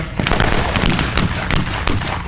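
Rapid bursts of automatic rifle fire from a BAR crack loudly at a WW2 battle reenactment, several sharp shots over a dense, continuous din of other gunfire and battlefield rumble.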